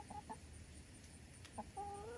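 Backyard chickens clucking softly in a garden with grow bags, a few short, fairly faint clucks in two clusters against quiet outdoor background.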